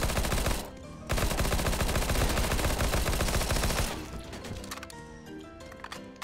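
Rapid automatic gunfire from a CS:GO competitive match, loud and dense bursts of shots for several seconds, then dropping off into scattered clicks and quieter mechanical clatter.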